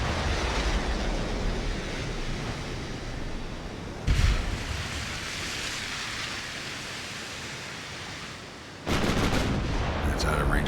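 Naval guns firing in the game Ultimate Admiral: Dreadnoughts, two sharp heavy blasts standing out over a loud continuous rumbling wash of battle noise, the second blast near the end.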